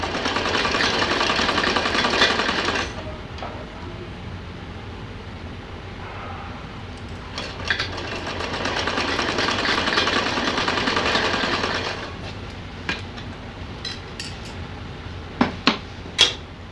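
A sewing machine stitches a simple choli for a doll in two bursts of steady whirring, separated and followed by quieter pauses with a few clicks and knocks near the end.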